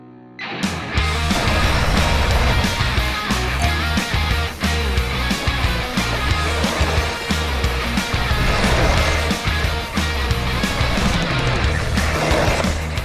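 Losi Mini JRXT RC truck driving, a continuous loud electric motor whine with tires crunching and rattling over rough ground, occasional bumps from landings.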